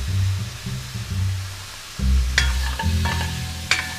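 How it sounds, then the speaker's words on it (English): Pork ribs sear in a hot pan with onion, a garlic clove and dried bay leaves, a steady close sizzle broken by the scrape and clatter of stirring, with a louder burst of frying around the middle. "going to kind of sear the meat so it doesn't let go of all the juice"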